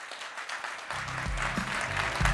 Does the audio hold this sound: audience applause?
yes